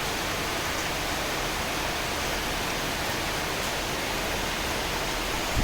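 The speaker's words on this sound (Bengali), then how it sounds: "এই যে বৃষ্টি" Steady outdoor rain falling during a sudden shower, a dense even hiss that holds at constant loudness throughout with no voices.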